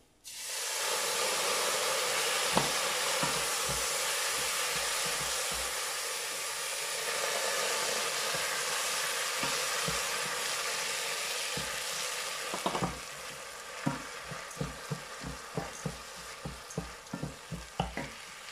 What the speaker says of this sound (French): Rajoutez maintenant votre vin blanc pour déglacer